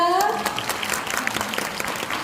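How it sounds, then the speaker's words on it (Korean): Warm applause from a concert audience at a Korean traditional music (gugak) performance, a steady dense patter of many hands that fills the short stretch at an even, moderate level. "따뜻한 박수로 맞이해 주셔서 감사합니다."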